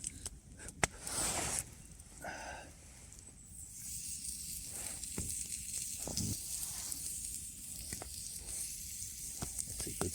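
Sheep ribs rubbed with pepper, salt, paprika and herbs sizzle on a hot rock at an outdoor camp. A soft, continuous hiss is broken by a few sharper crackling bursts.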